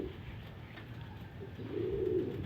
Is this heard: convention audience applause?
no